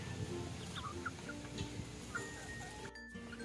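Young backyard chicks sunbathing outdoors, giving soft scattered clucks and short peeps over a steady low background hum, with a brief quiet gap near the end.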